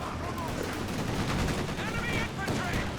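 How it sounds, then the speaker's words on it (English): Machine gun fire from an MG34 in the Company of Heroes 2 strategy game: dense, continuous battle noise with rattling bursts across the whole stretch, mixed with other combat sounds and with a voice talking over it. "And here the MG34 firing away somewhere."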